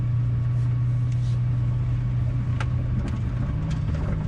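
A 2019 Ford GT pulling away, its engine a steady, loud low rumble that holds throughout at close range, with a few brief higher-pitched mechanical ticks and no speech.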